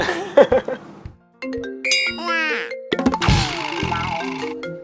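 A phone ringtone chimes through a domestic scene in an Indonesian TV drama, electronic tones rising and repeating over music and scattered speech, fairly loud and close.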